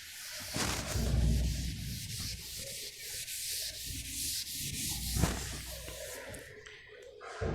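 A duster rubbing writing off a classroom board, close continuous scrubbing strokes in a steady back-and-forth rhythm with no talking.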